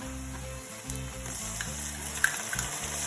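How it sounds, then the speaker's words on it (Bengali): Ginger-garlic paste fries in a pan with fried onions for chicken do pyaza, a steady close sizzle with soft stirring scrapes and no talking. "দু চামচের মতো আদা রসুন বাটা একটু কষানোর পর"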